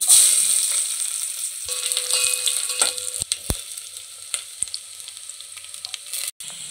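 Onions fry in hot oil in a pan for Maggi noodles, giving a continuous close hiss and sizzle with scattered pops, scrapes and stirring clicks. No one talks.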